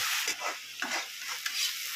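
Tomato stirred and fried in a pan, a spoon scraping in a few quick strokes over a steady, close sizzle, with no one talking.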